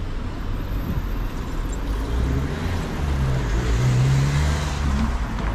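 Car traffic on a street in The Hague, where cars share the road with bicycles; a constant close engine rumble with a vehicle accelerating and passing, no talk over it.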